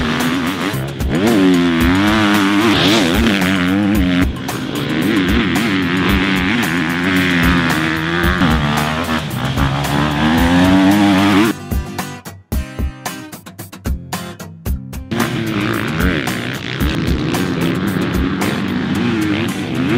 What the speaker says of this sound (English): Pros and intermediates love high revving KTM 250F engine.